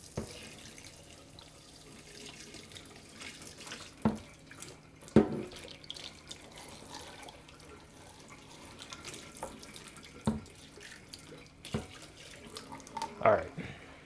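Water runs from a tap into a container during a phone freeze test, a soft continuous splash with a few sharper knocks and clunks.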